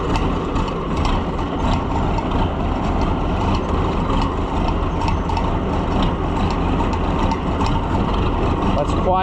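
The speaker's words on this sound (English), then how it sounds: "Let's quietly idle out of the way." A muddy off-road vehicle's engine idling with a steady low rumble and rattly mechanical clatter, loud and close, with voices talking over it.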